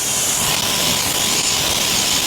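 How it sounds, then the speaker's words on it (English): A close, steady water spray hisses continuously while rinsing a car wheel, loud and unbroken throughout with no talking. "now we give our wheel a rinse and it should be good to go"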